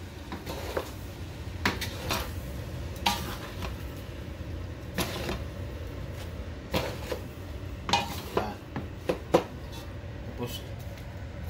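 Pancit Malabon noodles are stirred in a pan, with irregular scraping clanks and clinks of a utensil against cookware over a low kitchen rumble, close by, with occasional speech around it.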